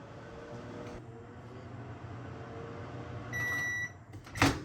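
A microwave oven hums steadily while melting butter and chocolate, its low drone filling the room before a short electronic beep tone and a clunk of the door near the end.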